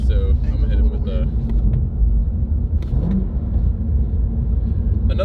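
A manual-transmission car engine rumbles steadily close by, with a brief rise in revs during a rev-match downshift, while a person talks over it.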